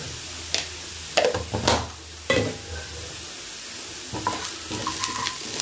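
A spoon stirs chili powder and sambar powder into drumstick leaves sautéing in a pan, with a steady frying sizzle and a few scraping clatters of the spoon.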